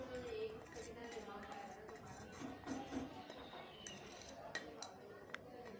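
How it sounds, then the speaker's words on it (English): A spoon stirs oil in a dish, giving soft, intermittent clinks and scraping against the dish under a steady kitchen background, with a few sharper taps near the end. "And just mix it."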